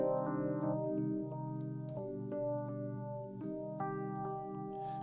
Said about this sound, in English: if I played that same melody using a minor chord, it'll give it a whole different feel.